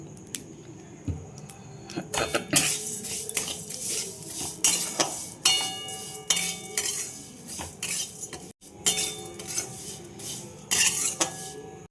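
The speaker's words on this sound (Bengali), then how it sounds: "2 চামচ ঘি দিয়ে আমি এটা ভেজে নিচ্ছি" Vermicelli frying in two spoonfuls of ghee, stirred with a metal spoon: repeated sharp clinks and scrapes against the pan, irregular and close, over a faint low sizzle.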